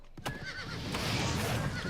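A horse in the video game Oblivion Remastered whinnies, a drawn-out neigh with fluttering pitch rising over steady background noise and faint hoofbeats, fairly close.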